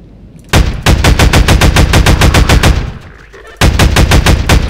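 Loud, rapid automatic gunfire fights Combine soldiers in the Half-Life 2 video game, coming as two long bursts of evenly spaced shots split by a short pause.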